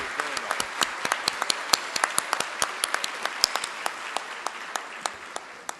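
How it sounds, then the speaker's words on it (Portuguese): Men in a conference audience clap for the women present. The steady applause is fairly faint and distant, with distinct individual claps standing out in an uneven rhythm, then gradually thins out. "E que os homens batam palmas para vocês"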